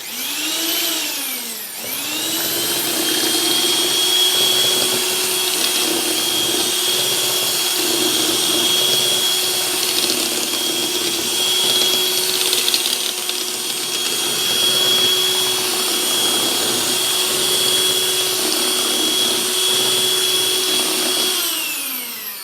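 A loud electric mixer blends flour into donut dough meant for the air fryer, spinning up after a brief pause and then running at a constant whining drone for nearly twenty seconds before cutting off.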